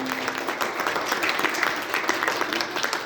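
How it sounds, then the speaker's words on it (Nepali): Steady, dense audience applause for teachers at a parenting talk, continuous and fairly loud throughout with no break. "जोरदार ताली"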